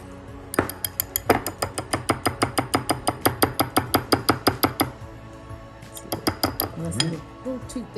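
Cornbread batter with cream being stirred in a bowl, a fast run of regular clinking knocks as a utensil strikes the bowl, close and loud, then a short pause and a second burst, with a voice speaking near the end.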